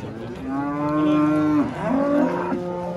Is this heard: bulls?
yes